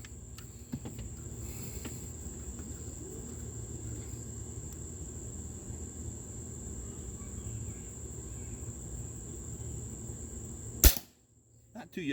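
A single sharp, fairly quiet shot from a Webley & Scott Xocet .25 caliber air rifle cracks near the end, after a long stretch of steady backyard background hiss and insect-like hum.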